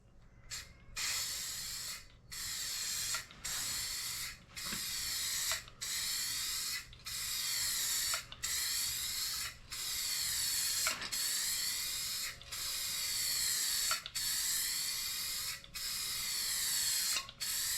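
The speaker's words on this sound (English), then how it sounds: "A lot easier to see where you're spraying this yellow" Repeated bursts of aerosol spray hiss as yellow paint is sprayed on a 1950s Galion road grader fuel tank, each lasting about a second with short gaps between, close and steady, no talking.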